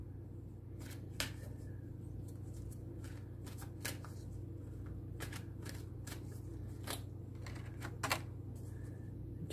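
Tarot cards are shuffled in a steady run of soft riffling clicks and flutters over a constant low hum, close and moderately quiet, with a few sharper snaps along the way.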